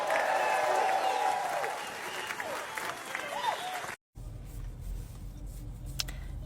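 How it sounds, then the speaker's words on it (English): A crowd applauds with dense, crackling clapping for about four seconds, with some voices mixed in, then it cuts abruptly to quieter background noise. "give yourselves a round of applause"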